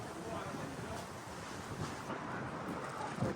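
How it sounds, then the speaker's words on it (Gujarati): Strong wind gusts blowing outdoors on a windy day, a steady broadband rush buffeting the microphone without letting up, with a louder gust near the end. "પવનનો અવાજ આવે છે મને પાછી ધકેલે પવન."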